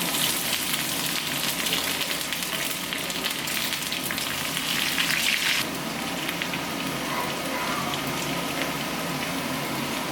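Mustard seeds, fenugreek, dried red chillies and curry leaves sizzle in hot oil for tempering, a dense, loud, continuous crackle that flares briefly midway before settling, with no talk.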